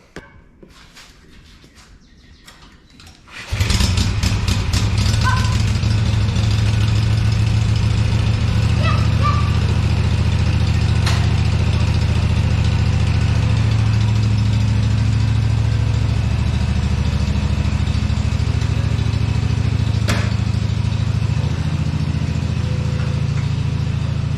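A Kawasaki engine cranks briefly, then catches and runs loud and close at a steady idle to warm up before an oil and fuel filter change, with a continuous mechanical drone and no talking.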